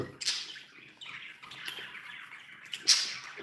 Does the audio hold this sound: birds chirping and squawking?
yes